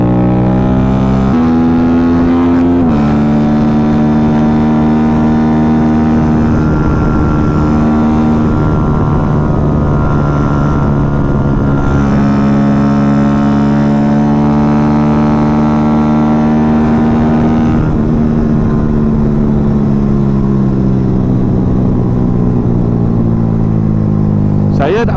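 A Yamaha Y15ZR motorcycle with a dry clutch is ridden hard up the Langat hill road, its engine droning steadily with strong harmonic tones that rise and fall as revs shift, loud and close throughout.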